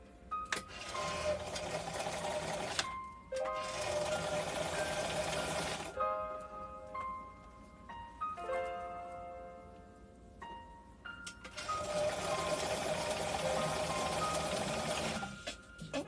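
A sewing machine runs in long, steady bursts while stitching the side seams of a garment at a 5/8-inch seam allowance, loud and close, broken by brief pauses and softer whirring stretches, with no talk.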